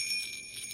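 Small bells jingle among beads strung on a child's Christmas shoebox gift, a brief, bright, steady ringing with no voices.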